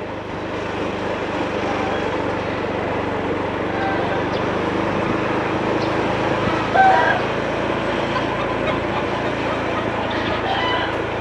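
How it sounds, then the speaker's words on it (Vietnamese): Chickens and ducks cluck and crow steadily at a distance in a quiet residential alley in Nhà Bè, Saigon, over a low, constant background hum. "Gà vịt kêu quá."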